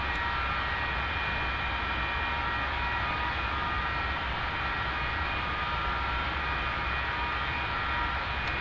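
Constant droning engine roar of an aircraft taxiing in the DCS flight simulator, a steady loud whine and rumble holding unchanged throughout with no talking.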